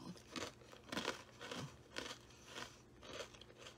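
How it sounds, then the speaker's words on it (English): Sourdough bread stick pretzels being bitten and chewed close to the mic, a string of about six crisp crunches in a loose rhythm, fairly quiet with no talking. "They just have a nice sourdough bread stick pretzel crunch."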